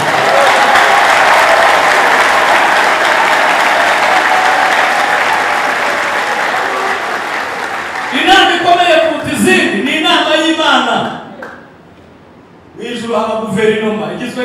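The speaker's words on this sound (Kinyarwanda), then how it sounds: "Umwami ahabwa amashyi muri iri terambere." A church congregation applauds loudly and steadily for about eight seconds, then a voice speaks over the fading clapping, pauses, and goes on talking.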